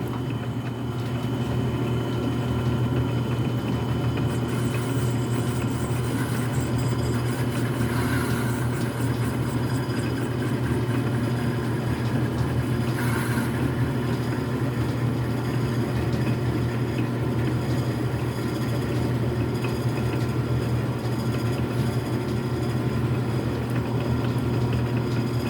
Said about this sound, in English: successful parting operation on the Logan lathe. So I've got, I don't know, 270 RPM or so